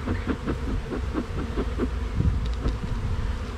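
A dense, steady buzzing of many honeybees around a hive during an inspection fills the air close by, humming continuously with a faint pulsing texture.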